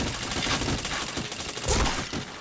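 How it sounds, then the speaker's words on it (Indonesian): Rapid bursts of video game gunfire crackle continuously through a multiplayer shooter match, loud and dense, with several sharper volleys near the end and no talk. "Ya ampun nggak kena aku nembak."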